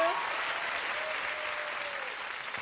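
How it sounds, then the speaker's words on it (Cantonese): A Miss Hong Kong 2019 pageant final audience applauds contestant number 1, Carmony, with sustained, even clapping from a large crowd, heard at moderate distance. "俾啲掌聲我哋1號嘅 Carmony"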